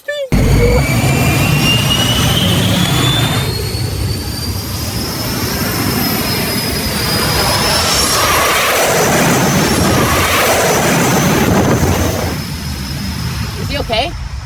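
Fighter jet engine fitted to a mini truck, running loud and close with a roaring whine whose pitch slowly climbs and holds, voices talking over it.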